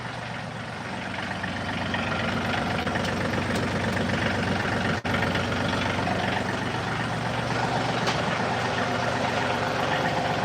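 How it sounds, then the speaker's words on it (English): A tractor engine idles steadily with a continuous low, heavy rumble and no talking, staying loud and even throughout apart from one brief click near the middle. "Let me go put my tractor in automatic."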